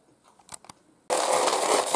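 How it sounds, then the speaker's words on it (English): A handful of dice for a Warhammer 40k tabletop game: faint clicks, then a sudden loud, sustained rattle and clatter as they tumble across the table. "Really loud dice."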